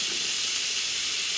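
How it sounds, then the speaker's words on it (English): Minced garlic and shrimp drippings sizzle in a pan with a steady, loud hiss that runs without a break, and one faint scrape of stirring comes near the end. "And we'll give it a good stir."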